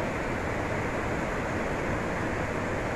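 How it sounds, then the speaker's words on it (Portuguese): Waterfall flowing in Minas Gerais, swollen and turbid after heavy rain, a steady, dense roar of rushing water with no breaks and no voices over it. "E ali embaixo, onde vocês podem ver, é que começa a cachoeira."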